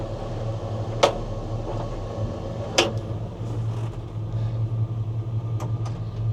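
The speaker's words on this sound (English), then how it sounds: "I'm going to turn it off as we drive so you can actually hear the truck" A 1966 Chevrolet C10 pickup with a 327 V8 and three-speed column shift drones steadily with a low rumble while driving, punctuated by a few sharp clunks and rattles from the cab.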